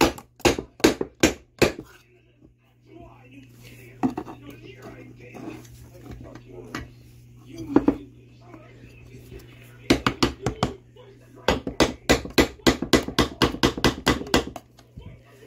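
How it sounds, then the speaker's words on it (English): A hammer taps repeatedly on a piston while it is pushed into the cylinder of a Predator 212 small engine during assembly. The sharp, close strikes come in irregular bursts with pauses, and a person talks over parts of it. "take your hammer."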